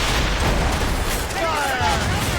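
Ship cannons in the Assassin's Creed Rogue video game boom out in a dense naval battle, with low rumbling blasts and crackling debris under loud shouted orders.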